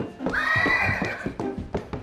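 A horse neighs in a loud, drawn-out whinny lasting about a second, followed by a few short thumps and bumps.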